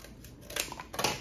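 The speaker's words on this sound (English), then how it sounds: "go ahead and snip two pieces of cardboard" Scissors snip two pieces of cardboard for a homemade test tube rack, giving a few quick, close, crisp cuts in a quiet room with no talk.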